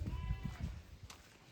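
A Hallikar calf calls out near its mother cow, a few short bleating cries close by over low rumbling background noise, with no talk.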